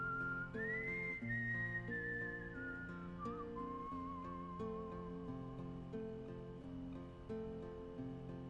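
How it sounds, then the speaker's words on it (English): A solo whistled melody glides and sustains over soft layered backing music in the Wild Arms ending theme, with long held notes and a gentle wavering slide, clear and unaccompanied by talk. "I think that's an actual guy doing the whistling"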